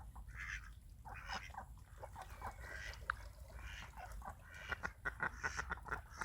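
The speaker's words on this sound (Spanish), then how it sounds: "Y ahí vienen más patos." Ducks call from a marsh at night, a string of quacks and honking notes at moderate distance, growing busier toward the end over a soft low background hum.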